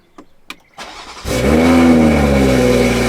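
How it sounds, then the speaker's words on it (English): A Toyota A91 Supra engine cranks and fires after a few faint clicks, then roars up into a loud, steady high idle with a brief rev, close and continuous once running. "Let's get this little cold started real quick."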